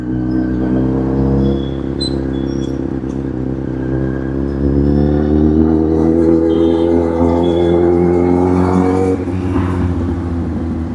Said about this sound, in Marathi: खतरनाक ट्रॅफिक आहे इथं तर.